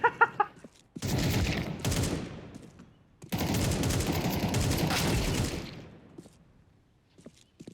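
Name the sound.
gunfire in Counter-Strike 2 video game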